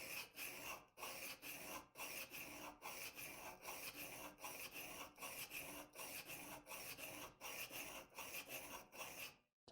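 A blade is rubbed back and forth on a diamond whetstone in a woodworking shop, making a gritty rasping scrape in a steady rhythm of about a dozen strokes with brief pauses between them, close and loud until it stops.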